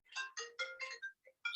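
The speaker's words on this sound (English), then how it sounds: "there's my phone ringing." A phone ringtone rings with bright, tonal electronic chirps in quick bursts, a short melodic phrase followed by a pause and the start of the next, fairly faint and alone.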